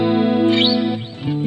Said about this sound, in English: Sounds good to me, this clean tone.